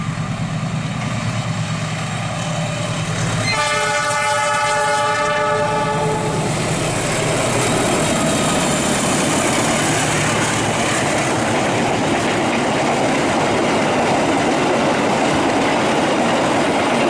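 Double-traction Kutojaya passenger train with two locomotives passing close by, a loud horn sounding in stacked tones for a few seconds before giving way to a sustained roar and rumble of wagons rolling past.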